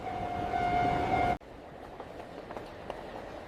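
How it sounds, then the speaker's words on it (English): A train pulls into a platform with a sustained horn-like tone that cuts off abruptly, followed by quieter rumbling and clanking of railcars and scattered station noise. "When will the train arrive at the platform?"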